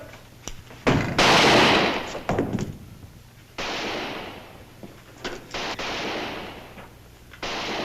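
Gunfire crackles through a western shootout, with a dense burst of rapid shots followed by scattered sharp reports and a second sustained barrage, loud and close with no talk over it.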